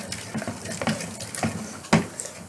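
Freshly made slime being stirred, a run of close, wet squelches and soft clicks in an uneven rhythm, one thicker squish standing out near the end, with no talk.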